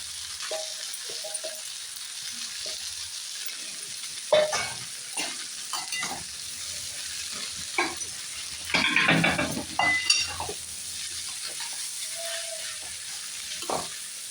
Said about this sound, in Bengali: এবার আমি চিড়েটা দিয়ে দেবো